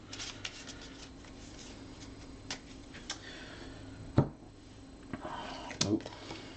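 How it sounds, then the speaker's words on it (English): A deck of Aventuria card game cards gets a quick shuffle at close range, with soft riffles and a few sharp slaps and taps as the cards settle, no talk over it. "Give it a quick shuffle."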